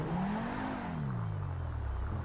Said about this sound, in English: I heard truck noises